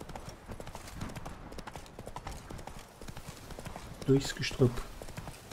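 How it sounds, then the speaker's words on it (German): Horse hoofbeats in The Witcher 3: Blood and Wine, a steady clip-clop of riding under someone speaking German, with two louder, sharper hoof strikes near the end. "Ein letztes Mal reiten wir hier entlang."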